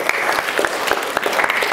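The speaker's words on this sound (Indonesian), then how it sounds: "Ayo kita tepuk tangan untuk kelompok 1." Applause from a church audience for a presenting group, a steady patter of many hands clapping close by for under two seconds, with no voices over it.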